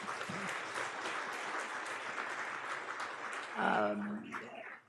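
An audience breaks into steady applause after a cricket coach's remarks about the Women's Cricket World Cup win, a dense wash of clapping that swells near the end before fading.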